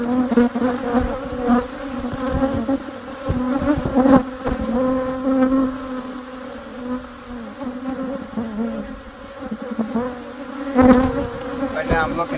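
Agitated bees swarm around a hive on a sticky, humid day, giving a dense, continuous buzzing drone close by that swells and fades in intensity throughout.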